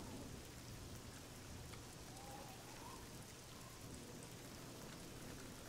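Rain falls steadily in the video game Oblivion, a soft constant patter with a low distant rumble of thunder underneath, faint and even throughout with no voices.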